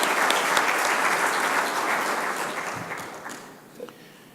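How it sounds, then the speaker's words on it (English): Audience applause for a visiting finance minister at an event in Australia, a loud crowd clapping that gradually tapers off over a few seconds. "So let's applaud Mr. Jaitley for coming to Australia."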